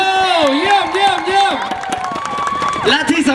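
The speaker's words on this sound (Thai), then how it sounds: "ขอเสียงปรบมือให้กับทางยูทีทาวด้วยแล้วกันครับผม" Crowd at a countdown event at UD Town in Udon Thani, Thailand, clapping and cheering loudly up close, with shrill whoops and excited voices riding over the rapid hand claps.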